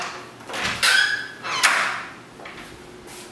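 A big back door of a wooden and concrete jungle retreat in Nicaragua slides open with a couple of loud scraping, squeaky rolls, followed by softer room ambience.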